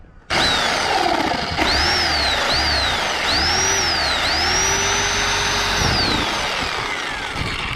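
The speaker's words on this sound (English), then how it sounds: "This is a Sawzall" A Sawzall reciprocating saw cutting into a beach-combed plastic float: a loud, steady buzzing whine that keeps on without a break, with the pitch swooping up and down as the blade bites and slows.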